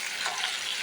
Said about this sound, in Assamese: মই অলপ আচাৰ ভাজি আছোঁ জলফাইৰ আচাৰ